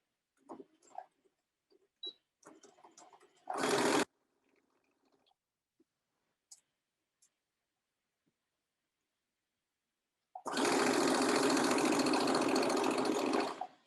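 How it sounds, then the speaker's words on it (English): A sewing machine stitches dress pockets with a half-inch seam, running in two bursts, a short one and then a longer steady whir, between quiet handling clicks and rustles. "we're going to stitch each of those pockets on at 1/2 inch"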